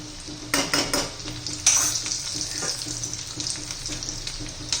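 Potato filling cooks gently in a pan over a low gas flame, giving a soft, steady sizzle with scattered scraping and stirring clatters from a utensil against the pan.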